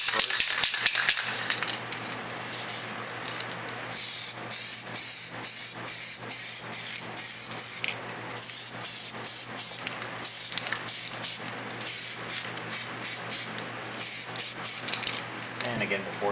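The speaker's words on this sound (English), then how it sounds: "So we're ready now to move on to the primer stage." Bursts of spray primer hiss onto the hull parts of an AMT 1/1000 scale Enterprise B model kit, close and repeated in short pulses with a faint steady hum beneath.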